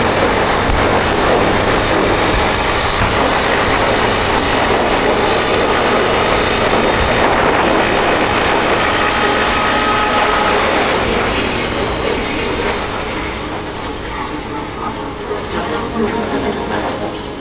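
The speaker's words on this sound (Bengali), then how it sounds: "SP125 ইঞ্জিন কিন্তু ব্যাপক স্মুথ চলছে" A 2026 Honda SP125 motorcycle engine under way, a loud, steady broadband drone mixed with rushing wind that holds throughout and eases slightly toward the end.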